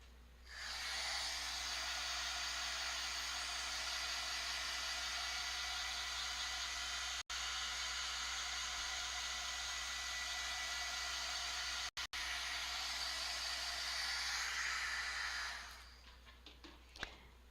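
A heat tool dries a handmade paper card with a loud, steady whooshing blast for about fifteen seconds, then cuts off, followed by a few faint knocks.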